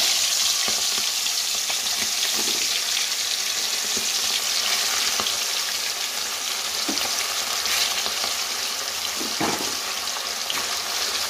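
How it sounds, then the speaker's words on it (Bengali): Chicken pieces fry in a pan with a steady, continuous sizzle and crackle, close and fairly loud throughout, with occasional small clinks and stirring sounds and no talking. "মাংসগুলোকে ভেজে নেবো এবার।"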